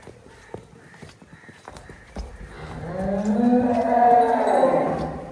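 Cow mooing on a dairy farm. A few faint knocks and clatters come first, then one long, loud, drawn-out low moo swells close by and fades.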